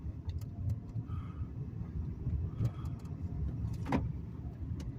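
A manual-transmission car pulls away during a stick-shift driving lesson, its engine rumbling low and steady as it accelerates and shifts into second gear, with a brief rise in engine note near the end and no talk.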